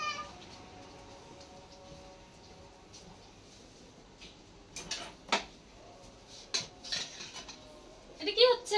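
Pots, pans and utensils clink and clatter in a home kitchen while rice cooks, quiet at first and then sharper metallic knocks and scrapes coming in scattered bursts near the end.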